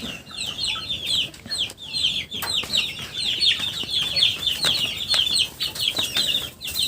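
A flock of 40-day-old chicks clucking and peeping steadily, close by, with a busy, continuous chatter and no talking.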